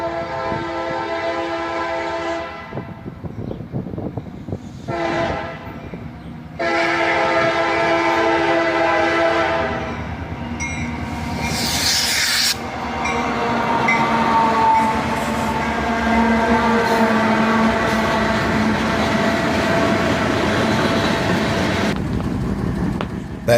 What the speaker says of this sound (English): we caught this guy with 3 older locomotives on it